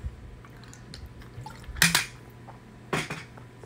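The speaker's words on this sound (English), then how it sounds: "Sorry, taking a swig of water." Someone drinks a swig of water close by, with quiet clinks and sloshing and two brief louder gulps or bottle knocks, and no talking.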